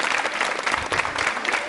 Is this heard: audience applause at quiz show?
yes